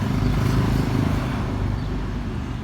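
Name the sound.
motorcycle passing on a street in Rome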